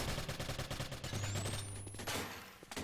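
Rapid bursts of gunfire in a competitive multiplayer shooter match, dense overlapping shots close and loud, followed by a rising electronic whine and scattered further shots near the end.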